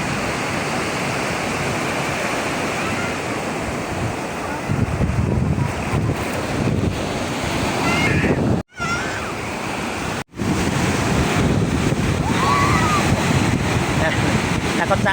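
Ocean waves breaking on a beach as the tide comes in, a continuous loud roar of surf mixed with heavy wind noise on the microphone, with faint voices in the background.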